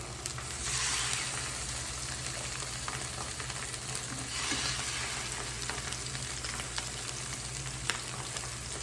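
Skin-on salmon fillets fry in a hot pan, a steady, dense sizzle holding for several seconds with brief swells and a faint clink, close by and without speech.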